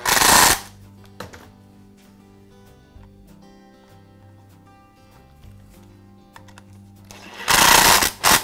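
A power screwdriver drives screws into the drive control housing of a Husqvarna lawn mower, with two loud whirring bursts at the start and end and faint clicks of handling between them.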